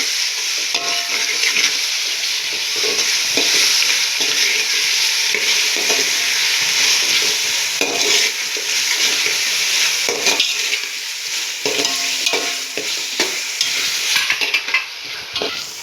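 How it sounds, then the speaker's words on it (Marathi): Ginger garlic paste frying in a pan for chicken biryani, loud continuous sizzle with frequent spatula scrapes and clatter of the utensil against the pan, no talking. "अद्रक लसूण पेस्ट पण आपली चांगली फ्राय झालेली आहे"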